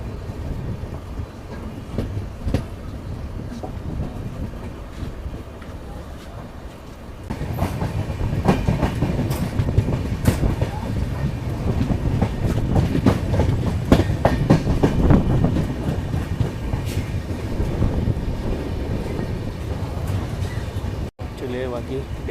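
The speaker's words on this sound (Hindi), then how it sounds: "चलिए अपनी ट्रेन यहाँ पर कांठ रेलवे स्टेशन पहुँच चुकी है" The Dehradun Express rolls into Kanth railway station in heavy rain, its wheels clattering steadily over the rails and growing louder partway through, while people talk over the rumble.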